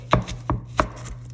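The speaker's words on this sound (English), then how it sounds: "So I'm gonna cut my onion in half." A knife slices through an onion on a cutting board, three crisp, close chops in quick succession, each a sharp thud, with no talking.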